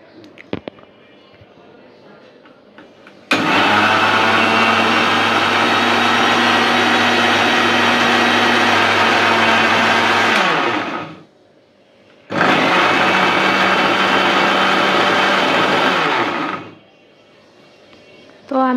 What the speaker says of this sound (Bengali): তো আমি হালকা করে ব্লেন্ড করে নিতেছি এখানে।